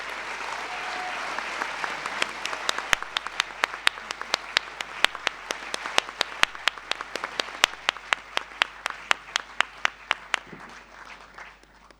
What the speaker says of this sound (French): je vous invite à applaudir Monsieur David Francoz